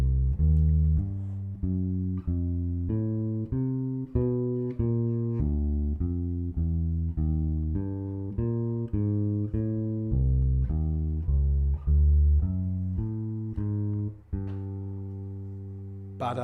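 Walking jazz bass line on solo bass, steady quarter notes moving through chord roots, thirds and fifths with chromatic passing tones, clear and close with no talking.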